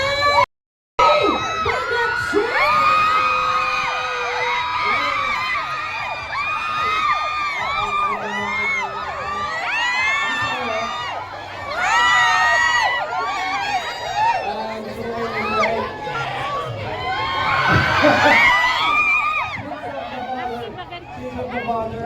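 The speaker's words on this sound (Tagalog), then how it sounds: "Once again, palakpakan naman natin" Large live audience at a Filipino entertainment show cheering, whooping and shouting in continuous waves, with children's voices and loud crowd chatter throughout; an announcer speaks over the noise.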